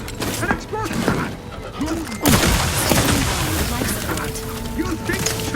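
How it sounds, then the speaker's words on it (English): Loud explosion and gunfire during combat in the video game The Outer Worlds 2, with a sharp blast partway through, rumbling debris and shots around it, while characters shout over the fighting. "An explosion!"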